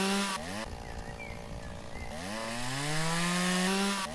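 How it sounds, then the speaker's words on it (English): Chainsaw cutting through a tree in the game Lumberjack's Dynasty, a steady loud engine drone that rises and shifts pitch as the blade bites into the wood, with no talking. "it's not that bad cutting up with a chainsaw"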